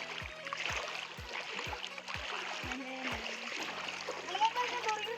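People wade across the Salunki river near Phulbani, with regular splashing steps through the water and the flowing river underneath while voices talk nearby.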